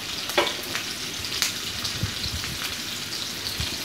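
Onion and green chillies sauté in a pan for a green peas kurma, giving a steady close sizzle broken by a few sharp spatula scrapes and clicks, with no voices.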